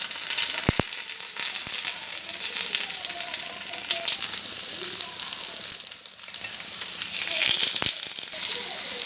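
Cabbage roll stuffing frying in butter in a pan, a dense continuous sizzle and crackle with occasional sharp clicks of a utensil stirring, close and loud.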